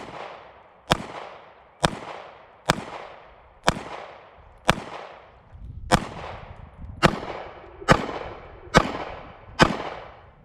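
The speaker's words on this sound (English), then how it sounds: "We'll run some more rounds through it, shoot it for a while" An ATI FatBoy firearm fires at an outdoor shooting range, ten sharp, loud shots at a steady pace about one second apart, each with a short echoing decay and no voices.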